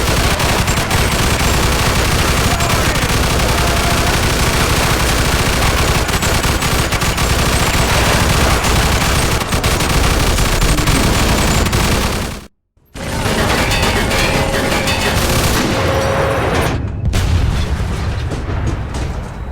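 Dense, continuous battle noise in the video game Mafia II: rapid gunfire and heavy cannon booms blending into a loud roar, broken by one brief silence near the end.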